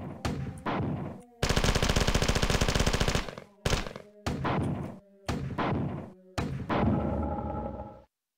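Bursts of video game gunfire fill the space: a long rapid machine-gun volley, then a series of loud separate blasts and shorter bursts from grenades and shots, each cut off sharply by brief silences.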